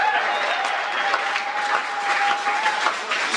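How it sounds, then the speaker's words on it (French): A church congregation at a Sunday service applauds in a steady, full round of clapping that lasts the whole time, with no talking over it. "Est-ce que vous acclamez pour cette parole?"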